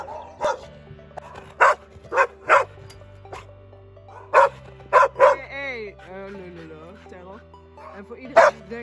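On a farm, a disabled dog barks in sharp, repeated bursts nearby, with a brief whimpering whine between barks.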